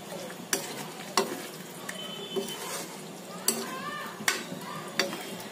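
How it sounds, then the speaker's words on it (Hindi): Besan curry being stirred in a pan over a gas flame, a spoon scraping and knocking against the metal at intervals over a low sizzle, close and fairly quiet. "ये जो मैंने बनाया है इन सभी को अच्छे से मिक्स कर दूंगी।"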